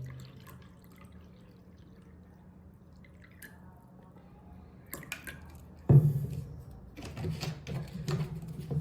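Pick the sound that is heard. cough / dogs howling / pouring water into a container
pouring water into a container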